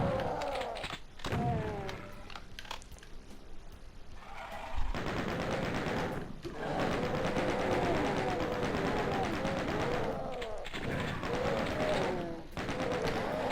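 Chaingunner enemies in Doom 2 let loose dense, sustained bursts of rapid machine-gun fire, heavy and continuous with short pauses between volleys, mixed with other game noises and thuds.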